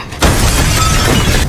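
Glass in a door shatters in a loud, sudden crash that sustains as a bright spray of breaking shards, heard alone.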